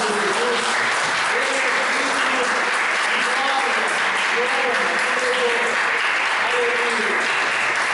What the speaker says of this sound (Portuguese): Você pode aplaudir Jesus, aplaude Jesus.